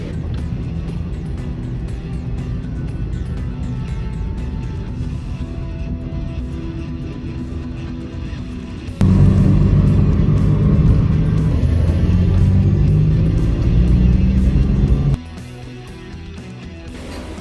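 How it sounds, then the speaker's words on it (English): A first-class intercity bus in Mexico pulls into a bus station with a steady low engine rumble, which swells louder and heavier midway as the bus manoeuvres, then drops back to a quieter idle. "So here we are pulling into the bus station."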